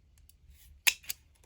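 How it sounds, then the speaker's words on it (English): Scissors make two quick, crisp snips as they cut craft paper, close and clear, after a moment of near silence. "we're going to cut them both"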